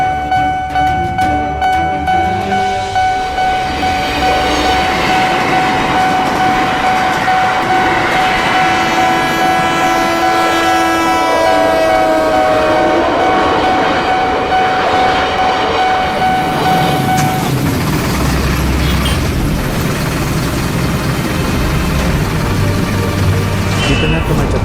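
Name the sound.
train passing at a railway crossing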